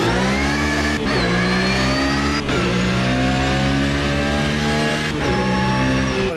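Race car engine in the video game Automobilista 2 at a Le Mans endurance event: a loud, steady droning engine note with rising pitch, broken by three sharp gear shifts, with no talk.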